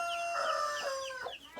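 A rooster crows in a small chicken house, one close, loud drawn-out call with harmonic rises and falls, ending in a couple of shorter clucking notes.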